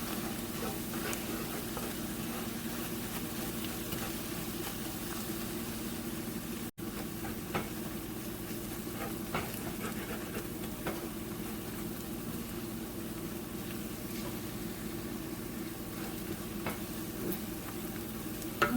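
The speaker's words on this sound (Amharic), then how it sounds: "እሳቱን ትንሽ ቀነስ አድርጎት በርበሬው እንዳይቃጠልባችሁ።" Berbere spice frying in a pan over low heat for Ethiopian chicken goulash, a soft steady sizzle with faint stirring scrapes throughout and a brief break partway, no talking.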